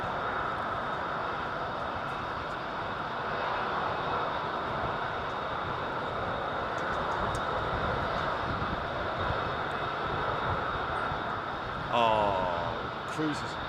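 Jet airliners taxiing at London Heathrow Airport make a steady, distant roar of engines that holds level throughout, with a person talking quietly nearby.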